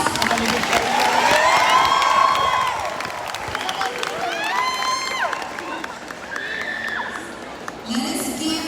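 Graduation ceremony audience applauding and cheering at moderate distance, clapping and crowd noise running under an amplified voice speaking over it.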